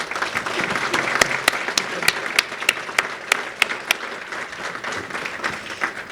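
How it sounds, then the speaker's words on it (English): An audience at a chamber of commerce leadership awards luncheon gives a round of applause for the chefs, staff and servers, steady dense clapping with a few sharp individual claps standing out, fairly close. "I'd like to ask you to join me in a round of applause for the chefs, staff, and servers"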